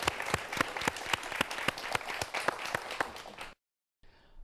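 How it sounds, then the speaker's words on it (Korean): A studio audience applauds at a televised lecture, dense steady clapping from a crowd for about three and a half seconds before cutting off abruptly, followed by brief faint noise. "박수 부탁드립니다."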